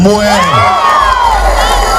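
A large crowd at an outdoor public gathering in Kenya cheers and whoops loudly, with shouted voices rising and falling over a continuous roar.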